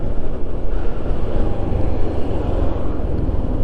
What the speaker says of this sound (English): You barely hear anything from the little puttering 110cc.